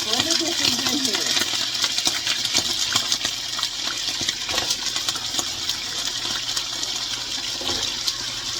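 Diced potatoes hit a hot skillet for country-style fried potatoes, giving off a steady, bright, hissing sizzle that runs unbroken throughout.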